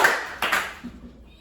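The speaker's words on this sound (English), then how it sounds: "You hear me clap once." Two sharp hand claps ring out in a classroom, one at the start and another a moment later, each followed by a short echoing decay, with a faint bit of background sound at the end.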